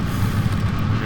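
Four rocket boosters firing at launch in the game Kerbal Space Program, a loud continuous low roar with a rumbling, wind-like hiss, steady for the whole second.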